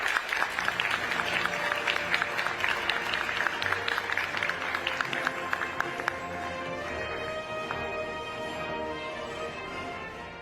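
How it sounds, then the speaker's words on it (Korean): A hall audience claps warmly to welcome Prime Minister Kim Min-seok for a keynote address on democracy in the AI era: dense, loud applause that holds for several seconds, then thins and fades into room tone. "그럼 김민석 국무총리님을 뜨거운 박수로 모시겠습니다"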